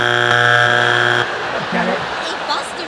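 Talent show judge's buzzer on Britain's Got Talent sounds as one loud, sustained electronic buzz lasting just over a second, cutting off abruptly, followed by a noisy studio crowd and voices.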